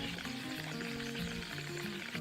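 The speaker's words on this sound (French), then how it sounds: "Ça fait des bulles." Aerosol gas bubbling through soapy water with dish soap, a continuous close fizzing and hissing texture with a steady low undertone throughout.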